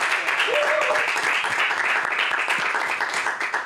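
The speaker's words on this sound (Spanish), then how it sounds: "Un aplauso para Valeria" Steady applause from a crowd, continuous clapping throughout and fading slightly toward the end.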